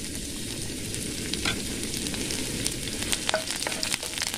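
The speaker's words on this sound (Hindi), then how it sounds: "तेल गरम हो गया, डाल देंगे अदरक कटा हुआ, लहसुन कटा हुआ" Steady, crackling sizzle of chopped ginger and garlic frying in hot oil, close and continuous, with occasional pops and a stirring scrape.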